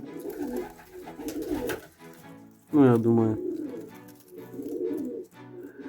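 Young pigeons kept by a fancier in winter coo in a loud, rolling call midway, with softer bird murmurs around it and someone speaking briefly over the birds.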